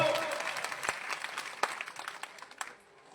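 Crowd applause at a Hindu devotional week-long katha gathering, a dense patter of many hands clapping fairly close, holding steady then thinning toward the end.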